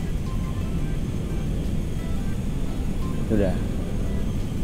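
Steady loud jet engine roar of a Lockheed L-1011 TriStar airliner coming in to land in GTA 5, constant broadband drone with a brief voice speaking over it.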